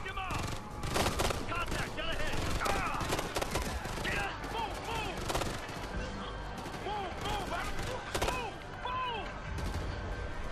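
Heavy gunfire in the video game Ghost Recon Future Soldier, with dense bursts of shots and automatic fire mixed with clatter, loud and continuous, while voices talk over it.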